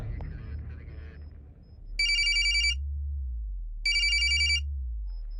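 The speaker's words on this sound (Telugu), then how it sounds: "సార్, రింగ్ అవుతుంది." An office telephone rings in two loud electronic bursts separated by a pause, each a rapid trilling ring, with faint low background hum and a brief murmur before the first ring.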